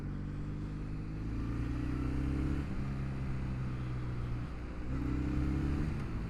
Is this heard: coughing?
no